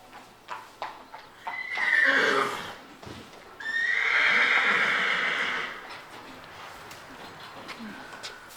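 Horses neigh and whinny loudly at close range in a new stable with boxes opening onto a paddock, two long calls separated by a pause, with faint hoof clops and brief voices in the background.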